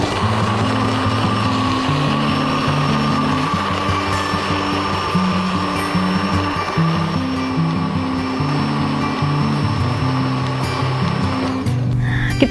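A kitchen blender grinds plant ingredients into a natural pesticide mixture, a steady loud motor whir running continuously for the whole stretch with a slight shift near the end.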